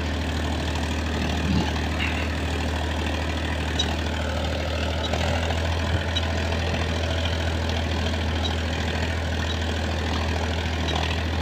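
A Powertrac Euro 50 Next tractor engine pulls a moldboard plough with slight wheel slip, a loud, steady low diesel rumble that never lets up, with faint rattles over it.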